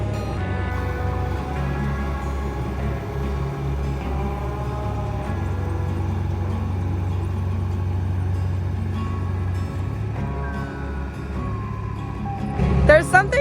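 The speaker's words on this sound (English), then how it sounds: "just watching Grant operate the skid steer" A skid steer loader runs steadily nearby, its low diesel drone and engine rumble holding for the whole stretch, with a brief burst of clattering noise near the end and faint voices in the background.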